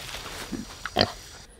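A sick pig gives a few short, low grunts over quiet background, the strongest one near the end, with a faint voice calling earlier.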